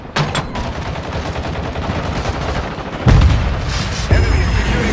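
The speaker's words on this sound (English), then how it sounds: "Requesting airstrike on this location" Loud video-game battle sounds from Warzone Mobile: continuous rattling gunfire with heavy booms from an airstrike landing near the end, dense and close, with no clear talk.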